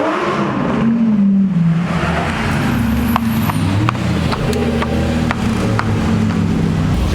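A Brabus car engine rumbles close by, a loud deep drone with rising and falling pitch as it revs among other car noise on a road.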